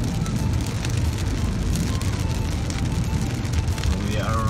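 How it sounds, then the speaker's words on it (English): Rain drums steadily on a moving car on the road between Ras Alkhair and Jubail, Saudi Arabia, a dense, continuous patter over low road and engine rumble, loud and unbroken throughout. "It is raining."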